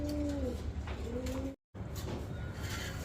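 Pigeons cooing at a pigeon farm, a couple of soft rolling coos close by over a low hum of the coop, broken by a short cut-out midway.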